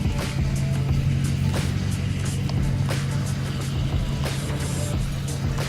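A car engine idles and rolls steadily as a wife's car is shifted into a parking spot on a snowy-weather day, a continuous low rumble with faint crunches and no talk.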